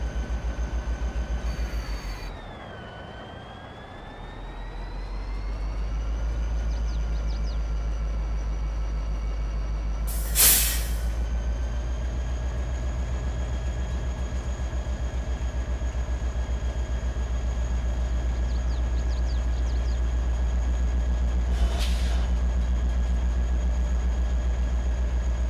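A train in Farming Simulator 22, added through a train mod, rumbles steadily with a deep engine drone and a sustained tonal whine. Two brief sharp bursts break through, one near the middle and one toward the end.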